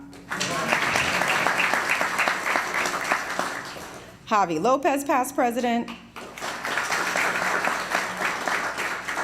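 An audience claps at a judicial investiture as guests are introduced, a broad patter of applause before and after an announcer's voice briefly names someone over a microphone.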